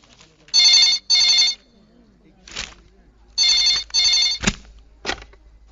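A telephone bell rings in two loud double bursts with a pause between them, plus a few sharp knocks and thuds in the quiet gaps, heard indoors in a Hindi film from 2000.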